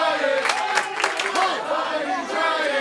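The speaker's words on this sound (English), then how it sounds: "Crowd showing much love and support for Tiny Giant" A wrestling crowd cheers and chants for Tiny Giant, a loud sustained roar of many voices in rhythmic swells, close and filling the room.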